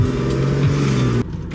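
A car driving by with a steady engine hum and a slight rise in pitch, close and loud, then cutting off abruptly after about a second.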